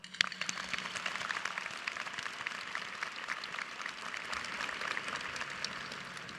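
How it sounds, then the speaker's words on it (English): Steady applause from a commencement ceremony audience fills the space, a continuous wash of clapping at moderate distance with no voices over it. "Let's take a moment to give a round of applause to our faculty, staff, the Office of Student Life, and all who played a part in making all of this possible."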